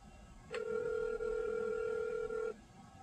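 A telephone call being placed gives one steady electronic tone that starts abruptly, holds for about two seconds and then cuts off, heard clearly over a quiet room hum with no talking.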